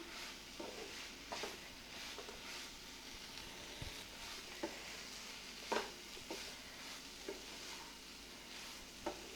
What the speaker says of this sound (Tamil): எல்லாமே ஒன்றா நல்லா மிக்ஸ் ஆகிற அளவுக்கு கிளறி விட்டுருங்க இந்த முட்டை முருங்கைக்காய் மசாலா எல்லாமே ஒன்றா நல்லா மிக்ஸ் ஆகிடணும்